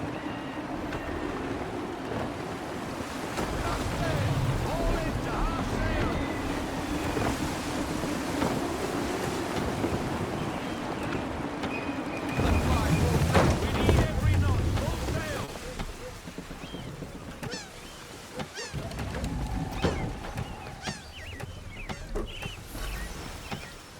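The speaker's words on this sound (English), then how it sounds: "Wind looks to be shifting. Stay alert, Connor. Gusty winds can be difficult to manage." Steady gusting wind and rushing sea water around a sailing ship in Assassin's Creed III, a continuous breathy roar that swells in the middle and eases, with a voice speaking over it.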